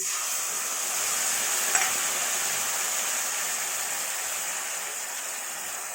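Cumin, ginger and chili paste frying in a pan, for a tengra fish curry with papaya, gives a steady, close, even sizzle that runs unbroken throughout with no talk.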